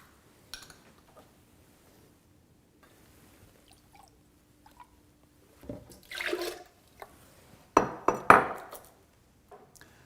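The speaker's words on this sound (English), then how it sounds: "In a high-speed blender, pour 1 cup of a no salt added vegetable juice blend or no salt added tomato juice." No-salt vegetable or tomato juice is poured into a high-speed blender, heard as a few soft liquid splashes and clinks amid quiet pauses, with the louder gurgling pour coming in short bursts toward the end.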